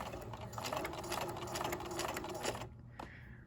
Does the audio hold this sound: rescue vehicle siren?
no